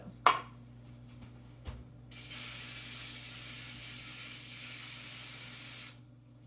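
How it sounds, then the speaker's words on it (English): A couple of faint taps, then a steady hiss of cooking spray onto hands lasting several seconds before cutting off, close and clear over a low background hum. "I'm going to spray my hands though."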